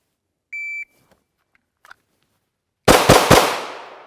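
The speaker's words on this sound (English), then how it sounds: "Now 3 shots, and let's see what happens." A short shot timer beep sounds, then after a pause three quick gunshots crack close and loud at a target on a shooting range, the last one trailing off into echo.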